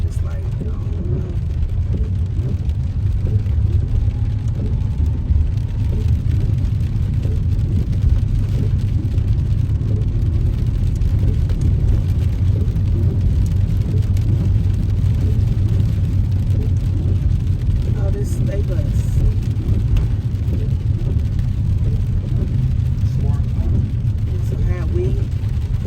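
A car drives on a rain-soaked road, with a low, steady rumble of tires and engine and a wash of rain noise throughout, as people talk inside the vehicle.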